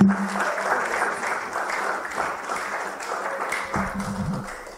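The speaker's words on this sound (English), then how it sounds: "Let's clap for Jesus." Church congregation applauding after a closing prayer, a steady wash of clapping hands held at moderate volume throughout, with faint background murmur.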